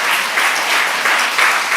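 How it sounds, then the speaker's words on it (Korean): A church congregation applauds during a sermon at a Korean church, sustained dense clapping from many hands filling the room with steady rolling swells and no voices. "우리 이분들 박수 한번 쳐줬으면 좋겠어요."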